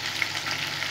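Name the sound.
potatoes frying in a pan with salt and turmeric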